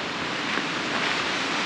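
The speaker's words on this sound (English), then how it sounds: "Cheeky little waterfall." Small waterfall in Argentina, a steady, full rush of falling water that stays loud and even throughout, with no voices.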